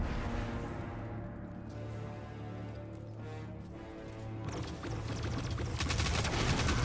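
Dense rapid gunfire from the video game Destiny 2, a continuous loud crackling barrage of shots that grows heavier toward the end, with no talk.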